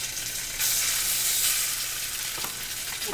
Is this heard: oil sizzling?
yes